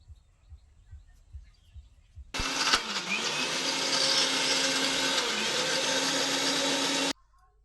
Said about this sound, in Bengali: এটা মিক্সিতে আগে ব্লেন্ড করে নিয়ে আসি।